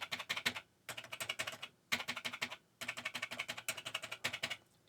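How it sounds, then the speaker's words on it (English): Rapid clicking of Atari 800XL keyboard keys, the E key among them, typed in quick bursts separated by short pauses, close and fairly quiet with no voices. "E sounds identical to the keys next to it."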